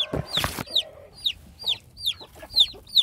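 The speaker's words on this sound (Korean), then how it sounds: "아기 병아리입니다" High, repeated peeping chirps of a newly hatched baby chick in a steady rhythm, close by in a rural chicken coop, after a brief burst of louder clucking at the start.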